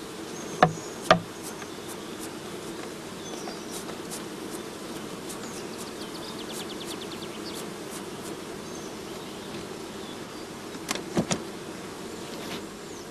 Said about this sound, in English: Shaken or brushed into the funnel, the bees fall into the swarm box underneath.